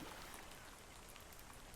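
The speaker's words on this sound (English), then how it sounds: "Starting to rain now." Steady rain in the video game Ark Survival Ascended patters and hisses on a surface, a dense even wash of drops with no other sounds.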